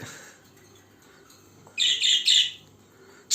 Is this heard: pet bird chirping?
yes